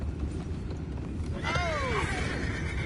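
A horse whinnies in a Red Dead-style video game, one of Arthur's horses: a clear, rising then falling neigh over steady low rumbling and faint hoof clops.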